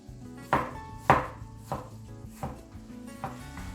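Vegetables sliced thin with a knife for a restaurant-style mixed vegetable curry: about six crisp, evenly spaced chops on a board, close and distinct, with no voices.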